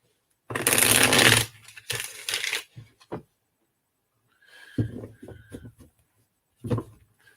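A deck of cards is shuffled in a few bursts: a dense riffling flutter lasting about a second, then shorter ruffles and taps, followed by scattered clicks and card handling, all close up.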